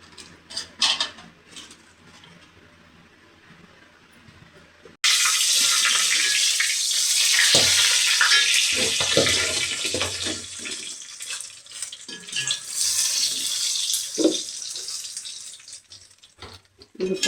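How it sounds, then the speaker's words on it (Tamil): Cooking oil is poured into a kadai to roast ingredients for idly podi, making a loud, steady pouring hiss that starts partway through, preceded by a few soft kitchen clinks, with no talking. "முதல்ல இப்போ எண்ணெய் ஊற்றிக்கிறோம் கடாயில்."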